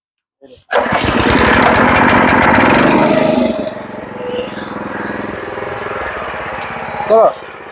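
A power tiller engine is started with a short pull, then roars loudly before settling into a steadier chugging idle, with people talking nearby.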